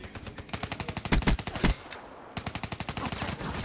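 Black Ops III multiplayer gunfire: rapid automatic bursts of shots, loud and close, with a few heavier reports, a short pause, and then another fast burst.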